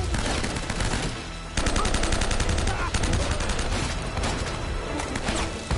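Dense bursts of automatic gunfire from the video game Uncharted: Drake's Fortune pound in loud rapid volleys, broken by short pauses, with constant clatter throughout.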